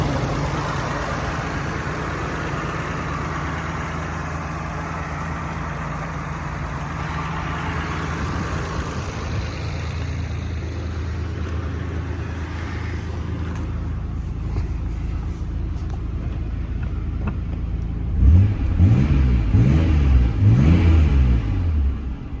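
An R32 Nissan Skyline GT-R with a Nismo-badged engine idles loudly and steadily up close, then a few sharp revs surge and fall away toward the end, with no talking.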